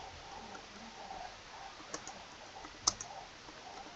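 Several soft keyboard and mouse clicks tap sparsely at a computer, one sharper click standing out among faint scattered taps over a quiet background.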